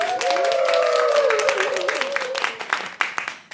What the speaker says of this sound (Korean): 감사합니다 박수